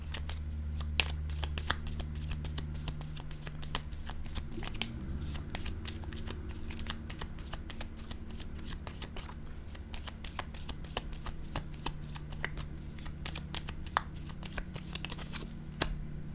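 Tarot cards are shuffled in a steady, continuous run of quick papery riffles and flicks, close and fairly loud over a low background hum, with no talking.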